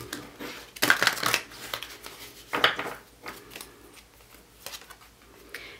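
A deck of oracle cards is shuffled by hand in a few quick riffling and sliding bursts, close and crisp, with quieter handling between.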